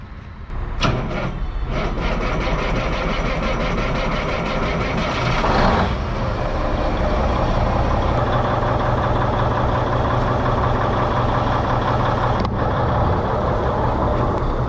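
Trucks from a small trucking company's fleet idle with a deep, steady diesel rumble close by, joined by brief louder revs and clanks near the start, continuous throughout.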